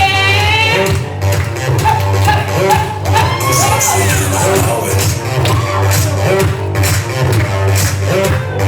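A wedding crowd cheers, whoops and applauds loudly and close by, with many voices shouting together over pounding music throughout.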